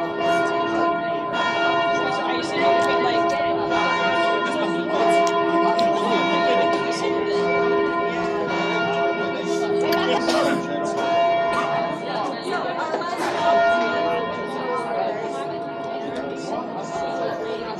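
Church bells ring continuously with layered, sustained tones, loud and steady throughout, while a voice talks faintly underneath.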